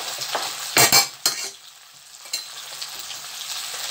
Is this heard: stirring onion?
yes